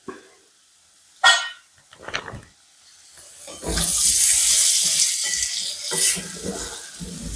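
Potatoes hit hot oil with salt for a Kerala mezhukkupuratti, starting with a few clatters and stirring knocks, then breaking into a loud, continuous sizzle with occasional scraping.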